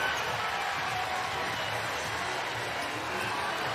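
A steady, dense crowd roar fills an arena at a basketball tournament as an alumni team takes the floor for warm-ups, a continuous wash of cheering with no clear breaks.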